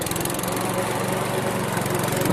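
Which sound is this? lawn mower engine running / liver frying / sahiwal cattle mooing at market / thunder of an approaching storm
lawn mower engine running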